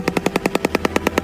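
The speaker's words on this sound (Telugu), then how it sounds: "దీని శబ్దం బుల్లెట్స్ లా సౌండ్ని పోలి ఉంటుంది" A bird's call sounding like gunfire: a rapid, evenly spaced burst of about a dozen sharp staccato pulses, loud and close, resembling a machine gun.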